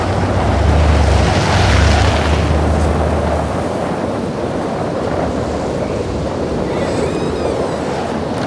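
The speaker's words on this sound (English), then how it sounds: "The wind is picking up." Strong wind picks up ahead of a tornado, a loud, broad rushing roar that buffets hardest early on and then settles to a steady blustery howl, with faint higher whistling near the end.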